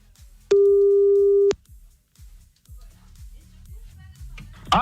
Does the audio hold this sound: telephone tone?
yes